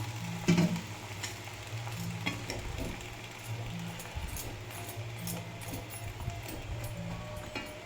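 Brinjal (eggplant) pieces stirred in a hot pan for curry, with a steady low sizzle and repeated scraping knocks of the spoon against the pan, close and continuous.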